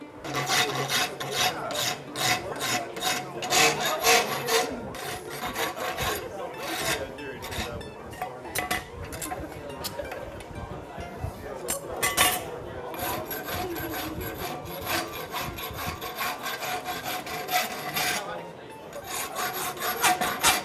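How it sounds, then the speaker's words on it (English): A farrier's rasp files and rounds a horse's hoof heels during shoeing at a clinic, giving steady, close, repeated scraping strokes across the whole stretch with brief pauses, and no talk over it. "First thing I do when I rasp these heels up is put the check and round the heel up"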